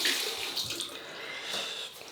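Water runs from a tap into a smooth shaving bowl, a steady hissing splash that stays even for a couple of seconds, close and moderately loud.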